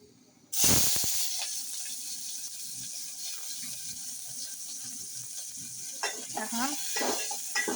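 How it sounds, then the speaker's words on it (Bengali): Spices dropped into hot oil to temper dal cooked with tomato, onion and garlic give a sudden loud burst of hissing sizzle that settles into a steady crackling fry, with a few clinks of stirring near the end. "এখন শুধু বাগার দেব।"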